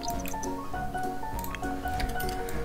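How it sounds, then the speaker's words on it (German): Water splashing and dripping from a shower in The Sims 4, with a steady liquid patter and small squishy drips under a continuous musical game background. "Säubern und danach duschen."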